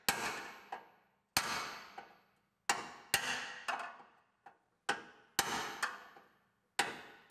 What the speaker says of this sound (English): Slowly but surely we're going to hammer it flat.